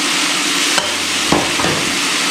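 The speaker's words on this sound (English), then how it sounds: "And we're just going to saute that off." Marinated beef and its juices sauté loudly in a hot pan, a dense continuous sizzle with a few stirring scrapes, close and with no voices.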